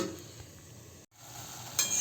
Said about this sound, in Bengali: তারপরে আলু দিয়ে আর গাজর দিয়ে এটাকে ভাজা করছি